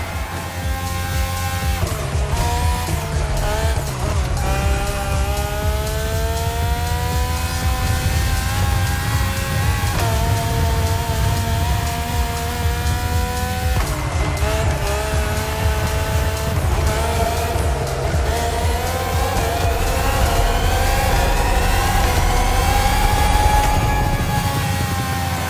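Race cars in The Crew Motorfest, a Red Bull Speed Clash event, roar loudly and continuously with engines rising and falling through gear shifts, tires squealing and cars passing close as the drivers use nitro.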